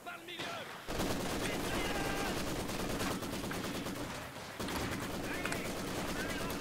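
Two machine guns trade fire in a D-Day themed strategy video game, loud sustained rapid bursts rattling almost continuously with one short pause, with a voice talking over them.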